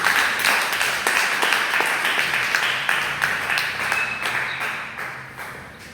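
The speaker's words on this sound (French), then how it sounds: "Est-ce que tu peux donner une acclamation au Seigneur?" A church congregation applauds and cheers for the Lord, with dense, rhythmic clapping and raised voices that stay loud before gradually tapering off.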